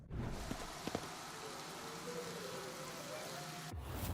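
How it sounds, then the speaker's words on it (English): Steady rain hisses in a Tokyo street scene of the video game Ghostwire: Tokyo, a soft even wash with a couple of faint taps near the start, heard fairly quietly. "The rain going up like that is freaky."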